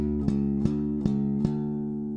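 Four slap bass notes, evenly spaced and unmuted, each sustaining and ringing into the next without being cut short, played alone.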